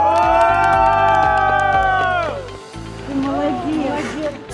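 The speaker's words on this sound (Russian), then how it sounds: "а пока конкурсантов могут подбодрить лишь болельщики" Fans cheer contestants at the final of a national young professionals' skills championship: a loud, sustained chanting or cheering note gives way to an excited mix of crowd voices and shouts.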